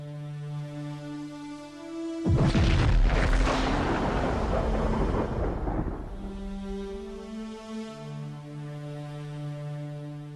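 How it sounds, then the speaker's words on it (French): A supernova explosion sound effect: a sudden loud, deep boom that rumbles and roars for several seconds over a low sustained musical drone, then fades back into the drone alone. "l'étoile ne peut plus le supporter et finit par exploser en ce qu'on appelle une nova ou une"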